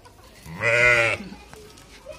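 A single goat bleats once, loud and close, a brief nasal cry over a quiet farmyard background while goats feed on sprouted barley fodder.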